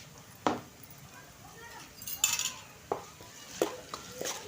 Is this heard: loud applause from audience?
no